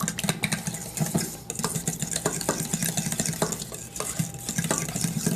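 Marinated meat stirred in a hot pan with a spoon scraping metal, sizzling steadily beneath repeated clinks and scrapes, close and fairly loud throughout.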